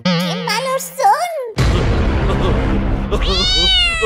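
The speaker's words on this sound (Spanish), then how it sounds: "¡Seguro que son los gatos de la vecina!" Several cats meowing in a domestic setting, with wavering, drawn-out meows in the first second and a half, then a loud burst of broad noise, and another rising meow near the end.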